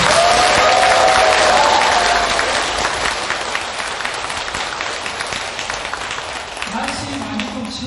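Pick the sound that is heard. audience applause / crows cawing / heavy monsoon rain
audience applause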